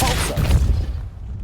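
A Depulso spell cast in Hogwarts Legacy gives a single short, forceful burst with a low boom that quickly fades into quiet.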